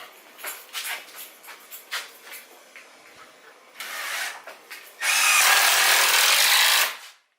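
A power drill whirs in short bursts amid clattering and handling noises, then runs in one longer, loud, steady burst before stopping.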